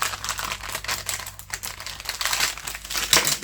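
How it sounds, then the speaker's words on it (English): Plastic packaging from a papercraft subscription kit crinkles and crackles close up in a continuous, uneven stream of rustling, with no talking. "Sorry for the crinkling."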